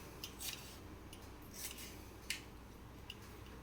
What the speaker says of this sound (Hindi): और पतला पतला टमाटर काट लेते हैं।